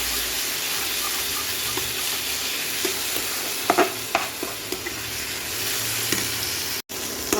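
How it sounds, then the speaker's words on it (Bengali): Spice masala for chicken pulao fries in oil in a pan, a steady close sizzle with scattered scraping taps of stirring, moderately loud and without talk. "এরপর আমি মশলাটা ভালো করে কষিয়ে নেব।"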